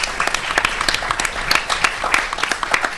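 An audience at a film summit breaks into applause, dense rapid clapping from many hands that carries steadily throughout, with faint voices underneath.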